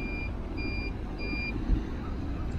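An electric car charging station in an Alpine setting emits three evenly spaced, thin electronic beeps over a steady low background rumble.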